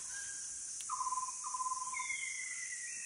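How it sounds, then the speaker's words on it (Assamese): Birds in an Assam lowland rainforest give clear, drawn-out whistling calls, one after another and moderately distant, over a constant high drone of insects, with no talking. "আপোনালোকে কাণ কৰক বিৰাট চৰাই মাত আহি আছে বাহিৰৰ পৰা শুনক"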